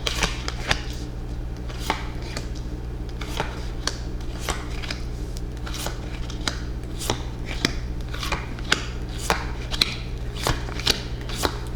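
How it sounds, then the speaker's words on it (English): Tarot cards shuffled and laid down one after another on a table, a steady series of crisp slaps and flicks over a low constant hum, with no talking. "For Aquarius, we'll lay down these cards."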